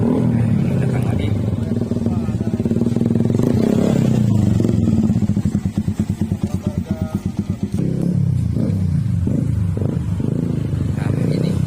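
Motorcycle fitted with a loud aftermarket brong exhaust arriving at a police traffic checkpoint, its engine rumbling close by with a rapid popping idle pulse, while people talk nearby.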